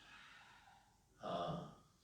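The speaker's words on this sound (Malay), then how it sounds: "Okey, lepaskan nafas." A single audible exhale during a guided breathing exercise at a dawn mosque lecture, a soft breathy rush rising suddenly after quiet room tone and fading over under a second, close and fairly faint.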